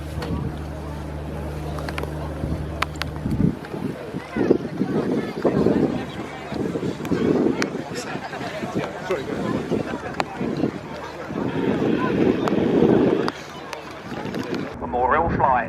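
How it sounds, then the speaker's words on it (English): Wind buffeting the microphone at an outdoor RAF air show, gusty rumbling bursts that rise and fall, with an announcer's voice heard over a public address system. "As you can see, it is quite windy"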